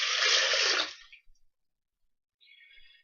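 Water pours into a blender holding peas in a steady rush for about a second, then cuts off, followed by a brief faint trickle.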